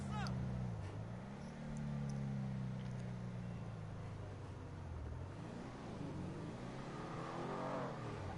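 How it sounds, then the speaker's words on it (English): A Sabre Turbo muscle car engine revs in GTA V, a low steady growl rising and falling in pitch under someone talking, with the engine note climbing toward the end. "Sounds like the Sabre Turbo to me."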